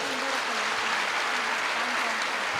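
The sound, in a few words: audience applause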